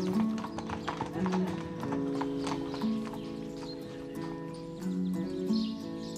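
Horses walk with a steady clip-clop of hooves in the Larzac countryside, the ride setting out; a brief whinny and some faint speech sit in the background.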